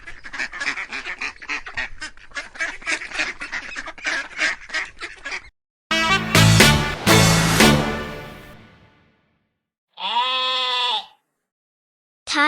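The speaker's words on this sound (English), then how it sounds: "Hear their soft baa as they graze on the green hills." Barbary sheep on a farm bleating in several loud, wavering baas, separated by brief pauses after a stretch of other farmyard calls.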